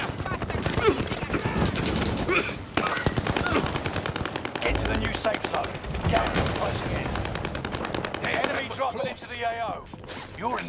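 Call of Duty: Modern Warfare battle royale gunfire, dense automatic bursts and single shots rattling close and loud, overlapping with game voice lines and a player calling out.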